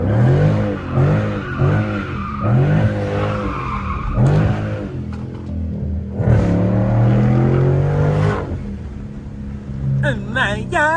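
Tires squeal in repeated long skids as a Chrysler 300 with a 5.7 Hemi V8 slides through corners, the engine revving loudly between squeals, with a voice heard at times.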